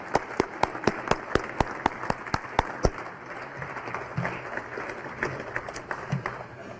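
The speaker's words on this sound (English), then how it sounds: "Please join me in one last round of applause for these two great men." Applause at an engineering award ceremony honoring two prize recipients, with loud, evenly spaced rhythmic claps up front that give way to softer, scattered crowd clapping and light murmur.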